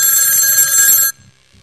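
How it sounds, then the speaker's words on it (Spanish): A telephone rings loudly and close with one bright electronic burst about a second long, then falls to near silence. "Teléfono."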